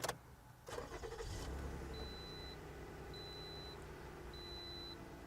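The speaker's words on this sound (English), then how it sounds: "you can just put the key in and start, well, turn the key to start" A Toyota RAV4 V6 Sport SUV from the 2000s starts with a key, a brief cranking burst settling into a steady low idle while a soft chime beeps three times.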